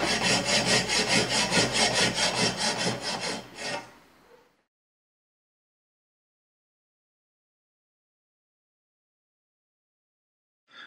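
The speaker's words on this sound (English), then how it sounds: "Draw file the handles to ensure a clean and flat surface for the scales to be attached to." A metal file is drawn across the handle section of a forged bushcraft chopper blade. Rapid, even rasping strokes sound close and loud for about four seconds, then stop, leaving near silence.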